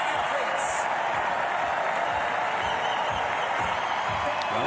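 A crowd at a para archery event applauds and cheers steadily as the archers walk out, a dense continuous clapping wash that fills the arena while an announcer talks over it.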